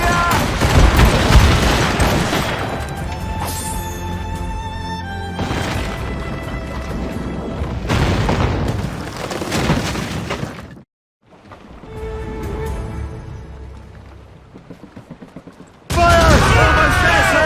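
Cannons fire in repeated heavy volleys during a naval battle in Assassin's Creed Rogue, loud booms and crashes in several bursts with a short lull, while voices shout over the barrage.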